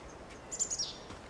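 Birds near a nest in a forest in Life is Strange 2 give a quick burst of faint, high chirps and tweets. Nobody speaks over the calls.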